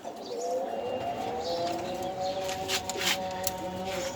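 Pigeons coo in soft repeated throaty calls at a pigeon farm, several birds overlapping at moderate distance, with faint chirps and background noise.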